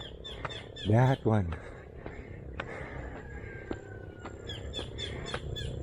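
A short, high, repeated kingfisher call with two quick bursts rings out over a noisy outdoor background, with people talking nearby.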